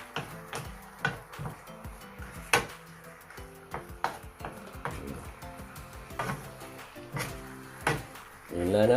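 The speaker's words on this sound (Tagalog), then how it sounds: "Ngayon, haluin lang natin." Chicken with lemon slices being stirred in a pot, with repeated knocks and scrapes of a utensil against the pot in an irregular rhythm, fairly close and moderately loud.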